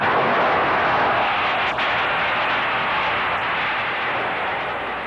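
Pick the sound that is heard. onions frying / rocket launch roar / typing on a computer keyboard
rocket launch roar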